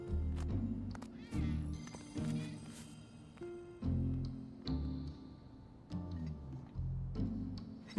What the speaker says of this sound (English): That cat looking at him like he's a treat or something.